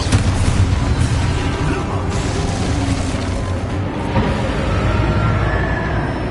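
Confringo blast spell in the Hogwarts Legacy video game, a heavy, booming burst merged into a dense, steady wash of loud combat noise that holds across the whole stretch.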